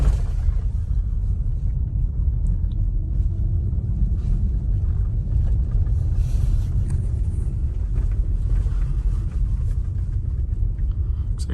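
A Tesla Model Y drives along a snowy road in the cold, a continuous low rumble of tyres and road noise heard from inside the cabin, steady and unbroken, with no talking.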